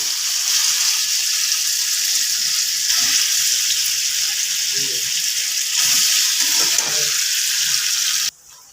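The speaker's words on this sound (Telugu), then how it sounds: "ఇలా ఎర్రగా వేగాక కరివేపాకు వేసుకోవాలి" Curry leaves frying in hot oil, a steady, fairly loud crackling sizzle that runs unbroken for several seconds, then suddenly drops away near the end.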